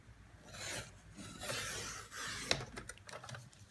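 Paper being trimmed with a rough rasping, rubbing texture in several bursts, with a sharp snip or click midway, close-up and moderately quiet with no talk.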